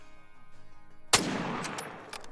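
A single loud rifle shot cracks out while hunting warthogs in the game Call of the Wild, followed by a lingering echo and a few faint distant pops after a quiet opening.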